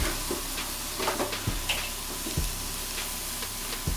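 Chorizo sausages cooking on a hot charcoal grill, a steady crackling sizzle with irregular pops and ticking sounds, close and moderately loud, with no one speaking.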